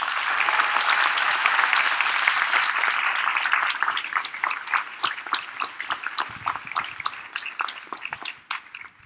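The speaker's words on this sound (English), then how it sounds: "would we please give the staff a round of applause?" Graduation audience applauding the school staff, starting as full, dense clapping and gradually thinning into scattered separate claps as it fades out.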